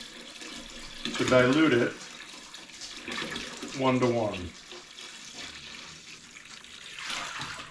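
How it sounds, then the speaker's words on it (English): A gallon of water pours into vinegar in a sink while a rusty cast iron pan is being restored, a steady splashing gush that swells twice and trails off as a person speaks over it. "we're going to add the gallon of water into the vinegar"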